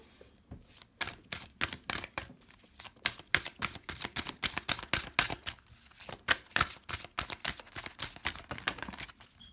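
Oracle cards are handled and shuffled in a rapid run of crisp flicks and riffles, close and fairly quiet, repeating steadily.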